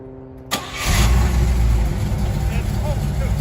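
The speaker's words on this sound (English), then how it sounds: "We're gonna start this thing up right now." A 1982 Camaro Z28 with a freshly swapped manual five-speed cranks and fires up, a sharp start followed by a loud, steady rumbling idle close to the microphone.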